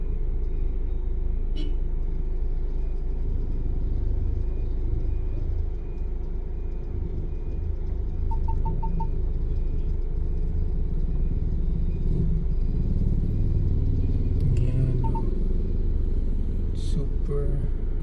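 Heavy street traffic in General Santos City, a loud, constant rumble of engines with passing vehicles throughout, and a person talking over it.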